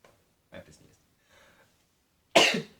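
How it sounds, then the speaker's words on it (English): A single sharp sneeze bursts out near the end, close and loud, after a few faint breathy sounds. "to sneeze. Gesundheit."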